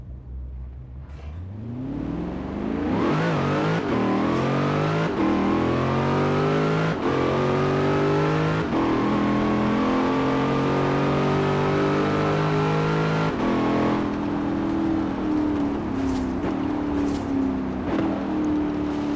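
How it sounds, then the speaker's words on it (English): A Chevrolet Corvette engine with supercharger whine in Forza Horizon 4, revving up through rising pitch and holding a loud, deep, steady drone with a whining overtone for most of the stretch. "This car's got a nice deep engine and a nice supercharger noise"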